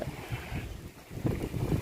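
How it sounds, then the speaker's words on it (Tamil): Strong wind gusts roar over a river in the evening rain, making a near, buffeting rush with low surging bursts. "காற்று பயங்கரமாக வந்துருச்சு பயங்கரமான காற்று மழை"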